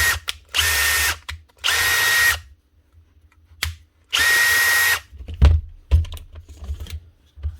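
Makita DDF083 impact driver after a gearbox repair, running in several short whirring bursts of about a second each with a steady high whine, close by and separated by quiet gaps and some handling clicks.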